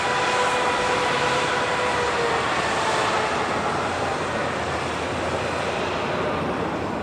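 A Hawaiian Airlines Airbus A330 jet at LAX gives a loud, continuous broadband engine roar that holds steady with a slight fade, heard alone without talk.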